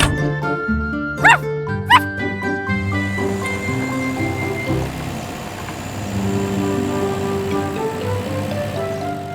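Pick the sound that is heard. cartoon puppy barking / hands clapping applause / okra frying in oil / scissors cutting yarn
cartoon puppy barking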